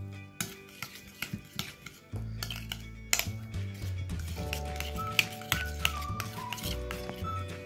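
A spoon stirs and mixes kaleji (liver) with its ingredients in a bowl, clinking and scraping in a quick irregular rhythm against light background music.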